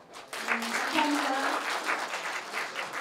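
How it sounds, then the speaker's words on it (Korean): Audience applause at a year-end gala of a regional hometown association in Incheon, a steady sustained clapping from a crowd that fills the room, loud and continuous for the whole stretch. "다시 한번 큰 박수로 감사의 표시를 전해드리겠습니다"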